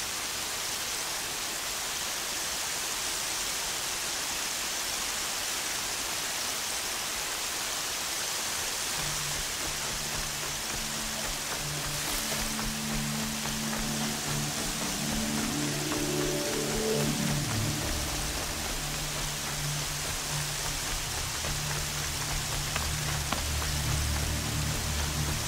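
Steady hiss of rain in the video game Horizon Zero Dawn, a broad constant wash throughout, joined midway by a low humming drone and a falling tonal sweep.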